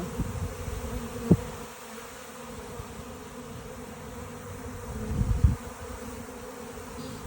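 A swarm of honey bees gathering outdoors, a faint, steady low buzzing hum throughout with a couple of brief louder bumps nearby.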